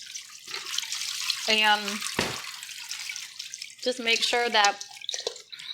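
Eggplant slices being rinsed under a running kitchen tap, a steady broadband water hiss that continues under a person talking throughout.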